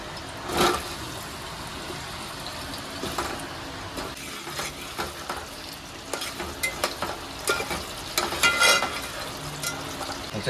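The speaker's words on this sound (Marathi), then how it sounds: "आता आपण याच्यात बटाटे फ्राय करून घेऊया" Potatoes frying in hot oil for aloo mutton, with a continuous close sizzle, bubbling crackles and occasional stirring scrapes that grow busier toward the end.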